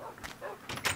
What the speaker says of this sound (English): There's my dog coming in the dog door.